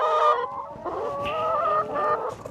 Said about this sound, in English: here's our younger flock that has just gone through its first summer of laying